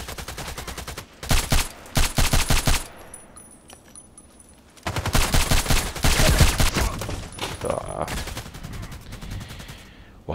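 DT SRS mk.2 rifle firing in the Contract Wars shooter game, bursts of loud sharp shots in quick rhythmic clusters separated by quieter pauses, with a speaking voice in between.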